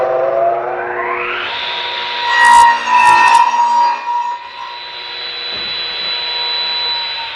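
A Craftsman radial arm saw cuts a 45-degree bevel: the motor whine spins up, a loud, rough cut follows in the middle, and then the motor hums on steadily, with no voices.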